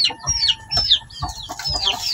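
A backyard chicken clucks close up in a quick repeating pattern of short throaty calls, with sharper chirps mixed in and no voices.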